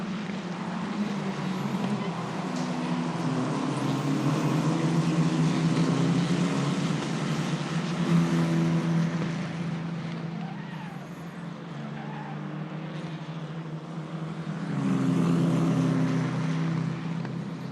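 Race cars at Mugello Circuit during a Euro 4 Championship race give a continuous engine drone that rises and falls as they pass, with one car sliding for grip and faint tire noise.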